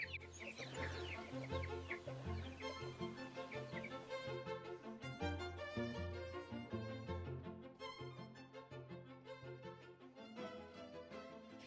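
Young chickens on a homestead being put out onto pasture, with continuous clucking and peeping from many birds close by, some louder calls rising over the busy flock.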